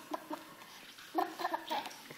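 A person imitates a chicken clucking with a few short, clipped vocal bursts, some spaced apart early and then a quicker cluster, at close range in a fairly quiet room.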